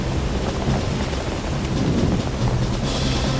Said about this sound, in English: Oh my gosh, thunderstorm.